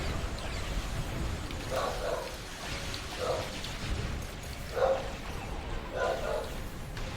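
Dogs barking downstairs, four muffled woofs spaced roughly a second or more apart, heard through the floor and distant under a steady background hiss.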